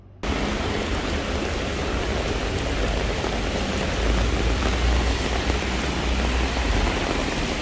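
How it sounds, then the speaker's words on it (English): Steady, dense rain pours down outdoors, a continuous loud hiss with a low rumble underneath, unbroken from just after the start to the end with no voices. "it's yellow rain. I'm all wet already."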